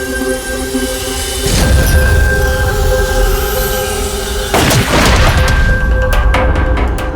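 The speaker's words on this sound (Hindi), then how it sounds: "तुम यहीं से 7-8 फीट की दूरी से इसे गोली मारो।" Two loud booming gunshots from a TV crime drama, fired at a target from about 7-8 feet away, the first near 1.5 seconds and the second near 4.5 seconds, each a sharp broadband blast over a steady background hum.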